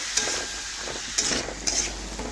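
Mixed vegetables being stir-fried with a ginger, cumin, black pepper and garlic paste, a loud steady sizzle broken by several sharp spoon scrapes against the pan, close up with no speech.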